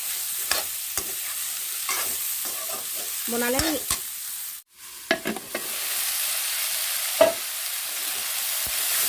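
Ridge gourd sizzles steadily in a hot pan while a utensil stirs and scrapes in scattered knocks; a brief voice speaks once.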